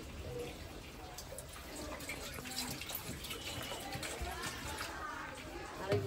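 Water is poured into a cooking pot of lentil dal with chalta (elephant apple): a soft, continuous splashing trickle that runs steadily throughout at low volume.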